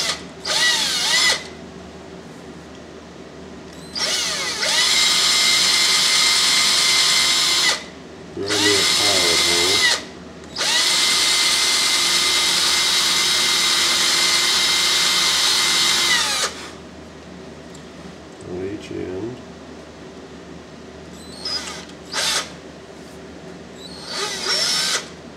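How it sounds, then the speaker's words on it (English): Power drill boring into a wooden carving of a coffee pot, fitting a 3/16 inch dowel handle; loud sustained whirring bursts of varying length separated by quiet pauses, with a few short trigger blips near the end. "And I got my drill here"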